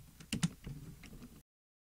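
A few quick keystrokes on a computer keyboard entering a terminal command, soft close clicks in a brief burst before silence.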